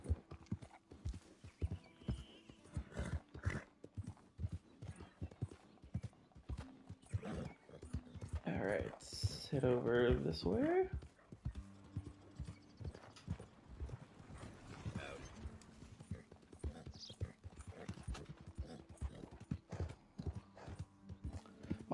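A horse in the Red Dead Redemption II video game, hooves clip-clopping in a steady rapid rhythm throughout, with a whinny midway, while someone talks over it.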